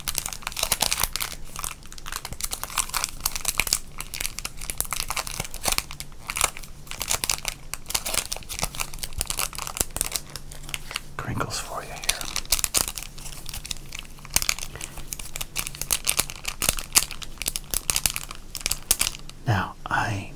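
Pack wrappers from 1991 sports cards crinkling and tearing close up, a continuous crackling with sharp crunches throughout, while someone talks over it.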